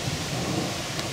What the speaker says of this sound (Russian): Рядом проходит тучка, гроза.